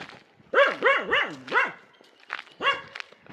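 A dog barks repeatedly close by on Nainativu island near Jaffna, a quick run of four barks, then a pause and more barks.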